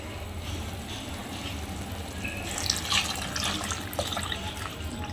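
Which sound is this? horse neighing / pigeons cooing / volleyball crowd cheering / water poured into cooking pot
water poured into cooking pot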